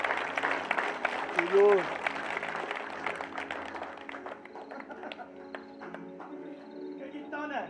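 Congregation clapping at an Afrikaans church service, a dense, steady patter of hands that fills the room beneath a preacher's voice and fades out near the end.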